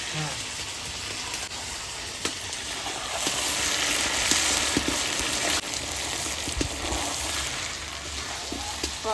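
Mutton sautéed with spices in a pan, Bengali village-style cooking, gives a steady, close frying sizzle and hiss throughout, with occasional clicks and stirring scrapes.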